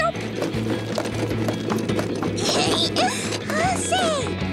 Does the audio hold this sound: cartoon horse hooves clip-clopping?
yes